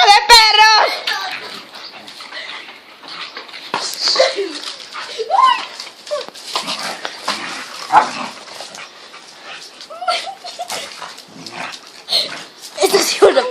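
Dogs fight with sharp barks, snarls and whimpers in quick, uneven bursts, mixed with excited voices of children and adults talking close by.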